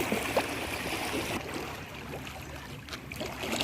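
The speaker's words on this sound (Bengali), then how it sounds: "জলের স্রোতটা দেখো জাস্ট ফলফল করছে জলের স্রোত প্রচণ্ড আছে" Strong flood water current rushing beneath a bridge across waterlogged farmland, a steady broadband wash that holds at moderate level throughout with no voices.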